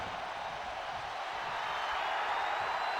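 A wrestling arena crowd in the WWE 2K25 video game, set in Atlanta, gives a steady, dense roar of murmuring and cheering that holds evenly throughout with no clear voices on top.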